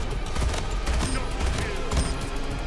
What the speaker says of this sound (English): You know, you can shoot your gun too if you want.